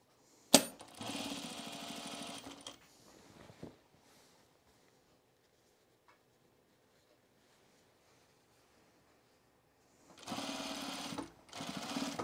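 A home sewing machine stitches across a jacket sleeve in two loud, steady whirring bursts at the start and end, separated by a long quiet stretch with a few faint handling clicks.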